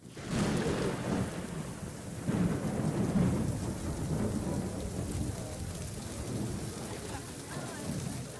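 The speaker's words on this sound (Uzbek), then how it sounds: "Xo'p, unda nega yomg'ir yog'moqda?" Heavy rain with rolling thunder, a loud continuous downpour with deep rumbles swelling and fading throughout.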